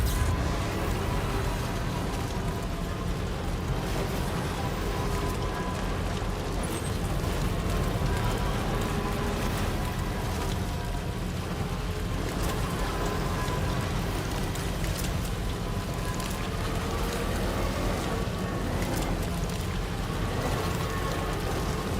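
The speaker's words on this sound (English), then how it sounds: "it started raining again" Steady rain pours down in the game Death Stranding, a constant dense hiss that runs through the whole stretch, with a voice talking over it.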